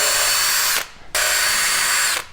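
A power drill whirs loudly in two close bursts while drilling pilot holes for a door lock plate, stopping briefly between them, the motor's high whine dominating.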